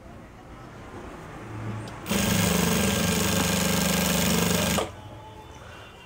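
A sewing machine stitching a child's pleated frock runs in one steady, loud burst of about three seconds, a fast even mechanical whirr. Quiet room sound comes before and after it.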